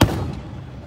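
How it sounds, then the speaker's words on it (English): A single Fourth of July firework bang hits at the start, then its boom fades out over the following second. "Look up Jacob's joyous face when he films the fireworks"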